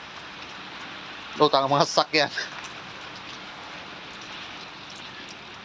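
Heavy rain pours in the UAE as a steady, dense hiss throughout. Partway through, someone speaks briefly over the downpour.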